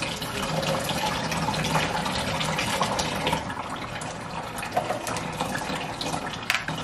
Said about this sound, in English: So I'm going to use the hot water that I was using for the double boiler.